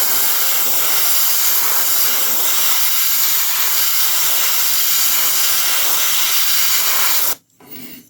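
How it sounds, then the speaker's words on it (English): Airbrush hissing steadily and close while overspraying black paint onto a 1/6-scale figure, a continuous bright spray that cuts off near the end. "I'm going to overspray a little bit of black on it."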